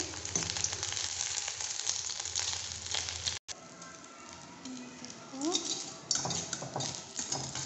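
Eggs frying in a pan on a gas stove give a steady, fairly loud sizzle with occasional utensil clinks and scrapes. A short break falls midway, and a voice is heard in the background.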